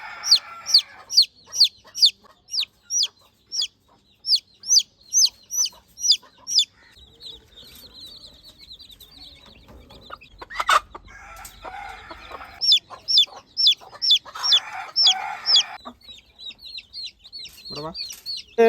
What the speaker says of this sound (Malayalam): എൻ്റെ കയ്യിലൊരു കോഴിക്കുഞ്ഞുണ്ടോ.